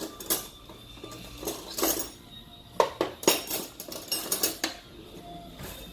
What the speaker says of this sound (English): Whack it in, give it a little stir.